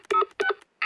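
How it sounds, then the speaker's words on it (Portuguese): A cartoon telephone's keypad is pressed to dial a number: three short electronic tone beeps in quick succession, close and clear with no other sound. "Eu vou ligar para vovó Pig."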